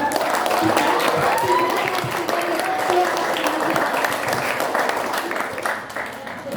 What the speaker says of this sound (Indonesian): mohon kepada penonton diberi tepuk tangan untuk grup